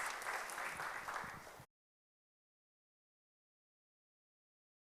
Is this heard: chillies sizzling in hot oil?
no